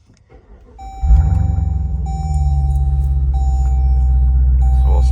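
A 2025 Dodge Durango Hellcat's supercharged engine cranks and fires up with a loud bark, then settles into a deep, steady rumbling idle, while repeated electronic warning chimes sound from inside the cabin; no one speaks.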